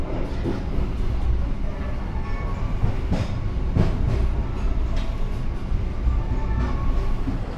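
The Sawunggalih passenger train rolls toward Cirebon station with a steady rumble and rhythmic clickety-clack of wheels over rail joints. Sharper knocks punctuate the run, which sounds from nearby or on board and has no speech.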